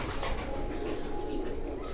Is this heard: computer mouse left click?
no